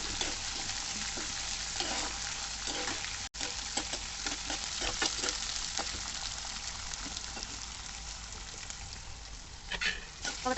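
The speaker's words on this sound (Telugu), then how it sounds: "బాగా లైట్ గోల్డెన్ వరకు వచ్చిన తర్వాత బాగా వేపుకోండి" Idli upma frying and being stirred in a pan until light golden, a soft steady sizzle with scattered scraping taps, fairly quiet and without talk.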